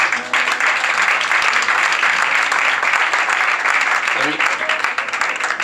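A crowd at a mentalist show breaks into loud, continuous clapping for a volunteer called to the stage, dense and sustained, with faint voices and a few stray tones mixed underneath.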